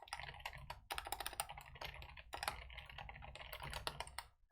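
Rapid, continuous clatter of computer keys being typed on, close and busy, with no voices.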